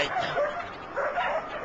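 A dog barks and yips twice in quick succession, fairly close, with a whimpering edge, in a French-dubbed animated episode during a storm.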